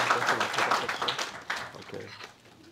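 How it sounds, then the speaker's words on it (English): Audience applause for Earl D. Fowlkes Jr. at a Black Pride tribute event: a dense wash of clapping that holds steady for a couple of seconds, then thins out and fades near the end. "Give Earl another round of applause"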